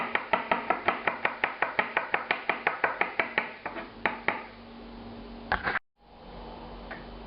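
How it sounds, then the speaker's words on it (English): Rapid knife chopping of finely sliced garlic on a cutting board, a quick even run of sharp taps that slows and stops, then a few scattered knocks against a low kitchen hum. "the garlic that I just chopped finely"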